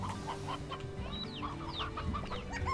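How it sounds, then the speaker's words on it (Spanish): Hens clucking in the Slime Rancher video game, a run of short, bright, repeated clucks close by over a steady low background hum, with no talk. "Estas son las Briar Hens."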